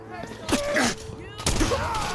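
Bursts of gunfire in the video game Fallout 4, two loud volleys about a second apart, mixed with voices shouting over the shots.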